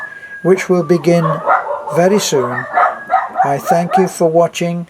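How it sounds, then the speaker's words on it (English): Several dogs bark and yip repeatedly close by, their barks coming in quick bursts and clusters over a man's speech. "Sorry about the dogs."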